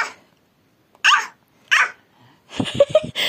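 Three short, sharp bark-like yelps spaced apart, a voice imitating a dog, the last burst longer and rougher.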